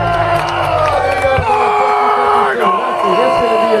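A stadium crowd at a Grey Cup football game roars and whoops for the Toronto Argonauts, with loud, sustained yelling and cheering voices close by.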